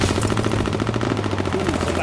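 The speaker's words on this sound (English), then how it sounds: "Ooh, somebody's shooting at me" Sustained rapid automatic gunfire in the battle royale game H1Z1, a fast steady rattle of shots close and loud throughout, with a voice speaking over it.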